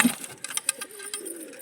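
A healthy, active pigeon in a loft coos softly, with a low rolling tone beneath a few light clicks and rustles, brief and close.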